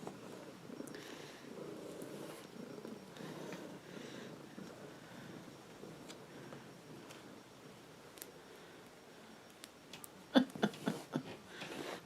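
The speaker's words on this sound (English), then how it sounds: "She's purring so loudly." A cat named Pumpkin purrs steadily and close up, a soft continuous rumble running through the whole stretch, with a few sharp ticks and clicks near the end.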